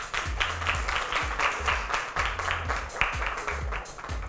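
Scattered applause for teen pageant contestants at a Miss Teen Beleza Millennium event, with sharp individual claps sounding over a moderately close room, fairly even and continuous for a few seconds with low thumps underneath.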